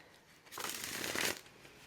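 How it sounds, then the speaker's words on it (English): A deck of tarot cards shuffled by hand, a single soft riffling burst lasting under a second, close and quiet with no talking. "I don't shuffle like other readers do. I do the hand throwy thing"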